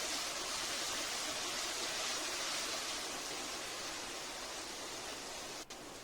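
Garlic ginger paste fries in a pan for aloo keema, producing a soft, even hiss that runs unbroken for several seconds with no talking.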